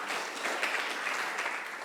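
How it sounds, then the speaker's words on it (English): An audience at a public affairs forum with Austin Mayor Kirk Watson breaks into brief applause, a dense, even patter of clapping hands at moderate distance with no talk over it. "give her a round of applause"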